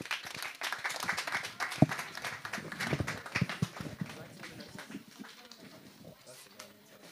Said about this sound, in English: Please, let's clap hands from them.